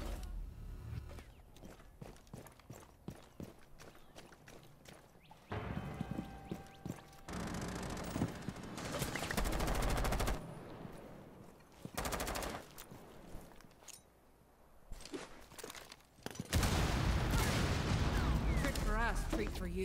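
Heavy bursts of automatic gunfire and shots from a Rainbow Six Siege match during the Sweet Hunt event, loud and close, arriving in dense clusters broken by short pauses, with footsteps and game sounds mixed in under voices.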